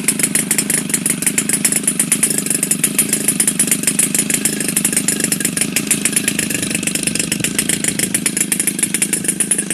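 A small high-revving Evolution 35GT model aircraft engine with CH ignition conversion runs steadily with a buzzing, rattling drone, close by and continuous throughout.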